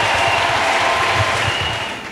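Dense, steady applause from a church congregation clapping for Jesus Christ during a service, a continuous wash of many hands filling the room and tapering slightly at the end.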